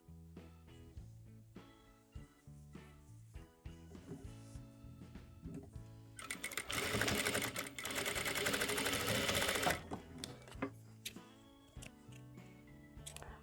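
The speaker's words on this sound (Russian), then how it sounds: "Берем детали туловища и сшиваем все выточки." A sewing machine stitches the darts of a fabric soft-toy bunny body, with rapid ticking runs in short bursts and a longer continuous whirring stretch in the middle, close and fairly quiet.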